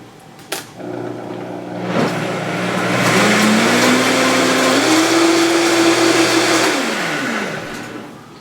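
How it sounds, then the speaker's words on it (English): A kitchen blender mixes beer and flour into batter, starting with a click, then whirring loudly and close with a rising motor pitch for several seconds before spinning down and stopping. "Once you've done all that, stick it on your blender."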